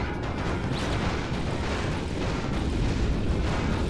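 A Bomb Glove blast in Ratchet & Clank erupts into a dense, roaring boom that rumbles on without break for a few seconds, loud and close, with no voices over it.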